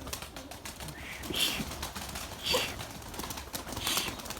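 Pigeons cooing nearby in soft, repeated low calls, with a few brighter chirps and light rustling in a quiet background.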